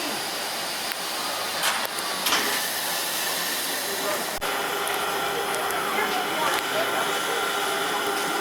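Steady broadband hiss of steam locomotive Milwaukee Road 261 venting, with a few sharper bursts and faint background voices.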